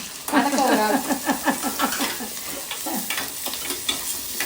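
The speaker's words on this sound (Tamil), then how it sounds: "நம்ம வெங்காயத்தை போட்டுக்கலாம் வதங்கட்டும்" Onions frying in a pan for crab curry, a steady sizzle with stirring scrapes that rise and fall across the clip, close and fairly loud, with no talk over it.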